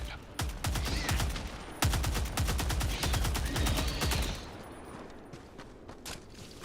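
Gunfire from the video game Helldivers 2, with two long rapid automatic bursts of loud, close shots, then a quieter tail with a few stray sounds.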